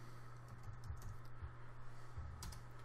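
Typing on a computer keyboard while testing SPI communication between AVR microcontrollers, a quiet, fairly even patter of key clicks over a constant low electrical hum, with no speech.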